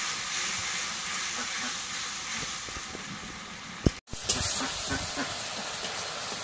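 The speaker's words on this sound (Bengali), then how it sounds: "এখন মশলা একটু নাড়া দিই।" Cumin paste and garam masala paste are stirred in a hot pan, giving a continuous, fairly quiet sizzling hiss that is briefly interrupted once before resuming.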